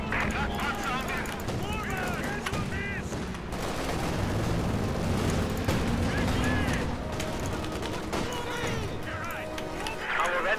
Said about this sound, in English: Flak Panzer is opening up